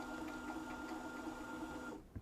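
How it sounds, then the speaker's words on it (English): Sewing machine winding a bobbin, a steady close mechanical whir with a constant pitch that runs evenly for about two seconds and then stops. "It's kind of hard to wind a bobbin if you don't have the presser foot."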